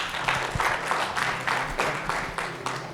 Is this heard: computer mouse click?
no